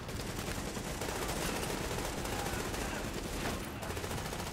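AK rifle gunfire in the video game The Division, a continuous burst of rapid automatic shots that stays dense and fairly quiet throughout, with no clear gaps between the rounds.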